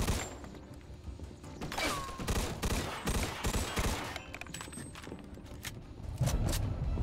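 Gunfire in the video game Mafia 2 rattles through a shootout, with repeated bursts and scattered single shots plus thuds, moderately loud and without talk.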